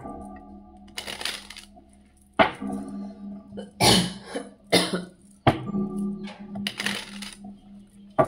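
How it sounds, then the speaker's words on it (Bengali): A woman with a lingering cough gives several short, harsh coughs at uneven intervals, close and fairly loud in a quiet room, with soft clicks and rustles between them. "আমার এখনো এই কাশিটা, খুব খুকে যে একটা কাশি, সেই কাশিটা এখনো যায়নি"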